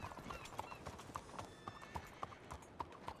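A horse in the WildRP video game clip-clops along in a steady rhythmic gait, its hooves close and distinct, with a whinny breaking through.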